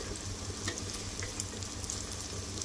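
Banana slices fry steadily in a pan, a continuous close hiss and crackle with small pops scattered throughout and no talking.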